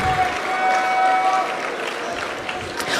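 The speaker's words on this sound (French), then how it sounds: "On peut l'applaudir" A crowd applauds Prime Minister Ousmane Sonko at the grand final of the Gov'athon 2025 event, with steady dense clapping and some cheering throughout, and a voice faintly heard over it.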